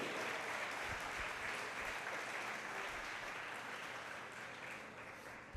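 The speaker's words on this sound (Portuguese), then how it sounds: "Dá um aplauso a Jesus." A church congregation claps together in sustained, even applause during a worship service, a dense wash of many hands filling the room at moderate loudness without speech.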